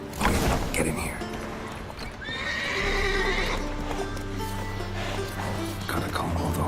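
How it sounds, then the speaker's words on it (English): Horses in the Witcher 3 video game whinny and neigh loudly and close by, with a drawn-out call in the middle, over clip-clopping hooves and game ambience. "Gotta calm all the horses before they wake the guards."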